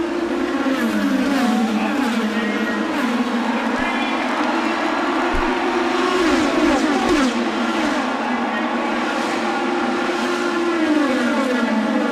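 Indianapolis 500 race cars, the 2014 98th running, roll down toward the start in a loud, continuous engine drone with shifting pitch under a steady crowd wash throughout.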